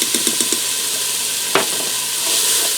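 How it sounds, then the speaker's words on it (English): Onions and minced garlic sauté in a Ninja Foodi, a loud steady sizzle with a quick run of spoon taps at the start and one sharp scrape midway, no voices. "I'm going to allow this to saute for a few minutes till the onions soften up"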